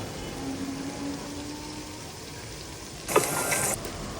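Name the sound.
ginger, garlic and onion paste frying while stirred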